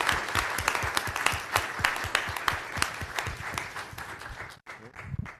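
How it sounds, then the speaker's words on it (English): An audience at a physics colloquium applauds steadily, a dense wash of many hands clapping at close range that stops abruptly near the end, followed by a brief quiet moment. "we should give everyone here a big round of applause"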